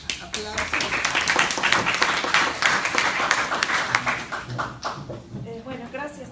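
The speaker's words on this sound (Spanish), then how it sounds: "doy la cordial bienvenida a la doctora César Latter con un cálido aplauso" An audience at a lecture on complementary feeding guidelines applauds to welcome a speaker, a dense, sustained clatter of clapping from many hands, with voices mixed in.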